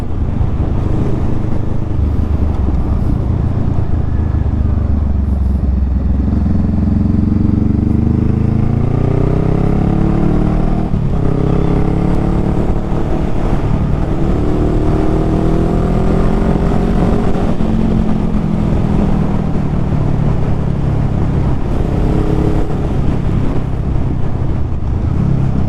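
A 2019 Honda Rebel 500 motorcycle being ridden on open roads: a loud, continuous engine drone heard close, with rising and falling pitch as it accelerates and shifts gears, under heavy wind rush and with no talk.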